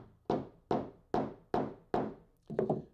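A hollow chisel mortising bit chops a square hole in wood, giving six evenly spaced, close, dull thunks, the last one slightly doubled.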